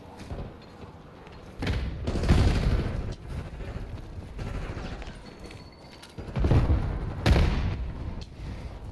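A frag grenade in Call of Duty Black Ops 6 hardcore multiplayer goes off amid ongoing gunfire, with heavy booms and thuds rising in two loud swells over a steady background of shooting.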